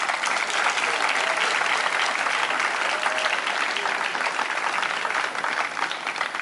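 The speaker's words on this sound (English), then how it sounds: "Please may we clap hands for them." Audience applauding swimmers and team management at the opening ceremony of the Zimbabwe senior national swimming championships at City Pool; steady, dense clapping from a sizable crowd throughout, with no talk over it.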